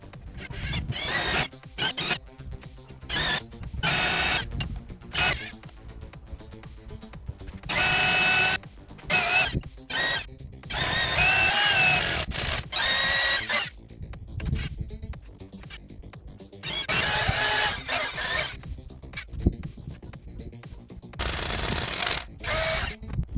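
A power drill bores through fence panels during fence installation outdoors, running in loud, repeated bursts of whirring with short stops between them across the whole stretch, with no talk.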